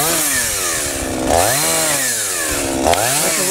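A chainsaw cutting wood at a rural homestead, loud and close, its engine pitch dipping and climbing twice as the chain bites into the log and eases off, with nothing else audible.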